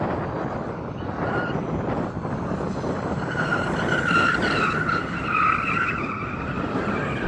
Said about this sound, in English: Go on, drift that.